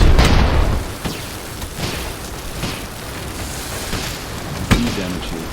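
Bombs dropped from an airship in the video game Airships: Conquer the Skies, with a heavy explosion at the start, scattered thuds and crackling impacts, and another sharp blast near the end.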